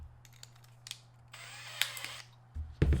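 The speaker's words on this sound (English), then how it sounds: "all we got to do is drill through this to allow for the return" A power drill with a 5/32 bit bores a return port through a fitting for a Fresair 12V air conditioner in a RAM Promaster 2500 van, giving a close, short whirring burst over low background hum and ending in a louder clatter.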